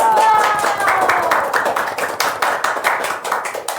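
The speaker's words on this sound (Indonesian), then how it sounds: "Beri tepuk tangan untuk Mbak Hani dan Mas Yoyo" An audience at a women's event claps for two performers, a fairly close run of quick, rhythmic hand claps with distinct individual strikes. A voice sounds briefly near the start, and the clapping keeps going at an even level to the end.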